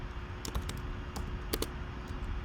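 Keystrokes on a computer keyboard while coding a web sign-up form, a few scattered clicks close to the mic over a faint steady hum, with no one speaking.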